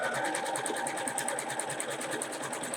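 A sewing machine set to speed 120 stitches a paper-pieced quilt block for a farm star pattern, running in a steady, rapid, close hum with no voices over it.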